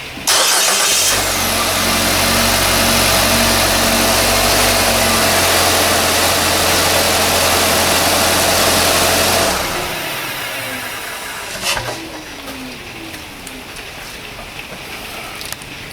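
A 2013 Nissan Qashqai with a 1.6 engine idling steadily and loud at close range for about nine seconds, with a low constant hum and drone, then cut off, leaving faint background noise and a brief knock.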